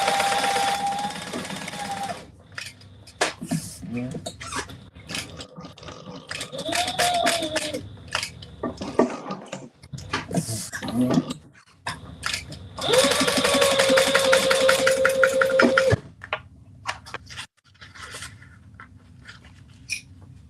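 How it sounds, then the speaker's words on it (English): A home sewing machine stitches an overlay onto fabric in short bursts of rapid mechanical whirring, with pauses, small clicks and handling noises between runs, and a longer steady run near the end. "now I'm going to sew my overlay on"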